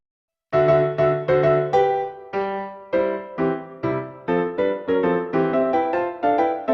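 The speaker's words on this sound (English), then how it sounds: "piano arrangements of video game music, and it sounds like this" Solo piano plays a lively melody with chords, notes struck in a steady rhythm, clear and close with no talking.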